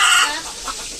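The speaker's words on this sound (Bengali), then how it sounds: "আজকে মুরগিগুলো অনেক চিল্লাপাল্লা করতেছে" Desi chickens on a small farm cluck loudly and densely, a close, noisy flock chattering over one another without a break.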